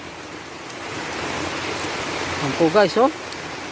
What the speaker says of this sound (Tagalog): Ang lakas po ng ulan dito ngayon sa amin.